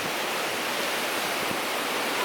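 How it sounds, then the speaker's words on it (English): A gale with rain, hail and thunder sweeps across an Australian farm as a steady, loud, broadband roar of wind and driving rain that never lets up. "those are gale force winds, rain, hail and thunder"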